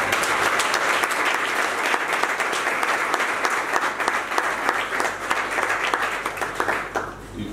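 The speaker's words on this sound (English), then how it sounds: "I think that he deserves another round of applause." An audience at a regional nurses and midwives event gives a keynote speaker a dense, sustained round of applause, close and steady, tapering away in the final second.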